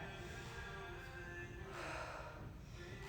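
Slow breathing during a yoga pose, a long soft exhale and inhale close to the microphone over a steady background hiss, fairly faint.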